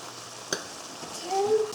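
Tofu scramble cooking in a pan over medium heat, a soft steady sizzle with one sharp utensil click and a brief louder stir near the end, a voice faintly beneath.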